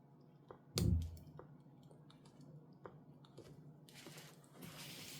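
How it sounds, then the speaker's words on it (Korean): A Galaxy S20+ phone connector is pressed by fingernail into its socket during a repair, giving a quiet, close click followed by a few faint small taps and handling noises, then a soft rustle. "살짝 손톱으로 눌러서 딸깍하는 소리 날 때 그 자리가 들어간 거거든요"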